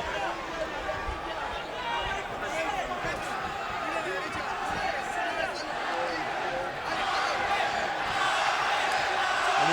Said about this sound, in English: And again, the crowd tries to urge Arce on